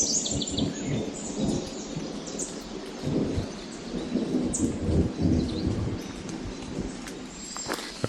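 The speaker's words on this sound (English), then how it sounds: "I still hear thunder." Thunder rumbles steadily through light rain along a trout stream path in a state park, low and rolling throughout, with birds calling faintly in the background.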